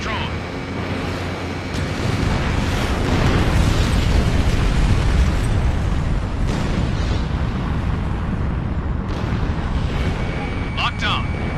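A tank blows up in the Ace Combat Infinity flight combat game, a heavy rumbling explosion swelling into a sustained roar layered over constant jet engine noise, with voices talking over it.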